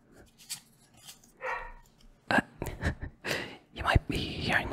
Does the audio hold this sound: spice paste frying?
no